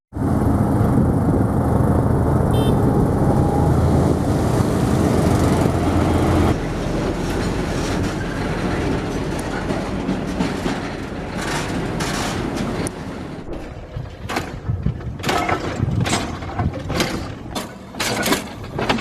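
A train rumbles loudly through a market in India, a heavy continuous roar that thins out near the end into sharp rhythmic clacks from the wheels.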